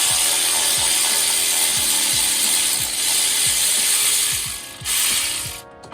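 A ratchet wrench backing out a 15mm water pump bolt on a 2006 Chevy Silverado 5.3 L, rapid repeated clicking strokes close up over a loud steady background roar, ending abruptly, no talking.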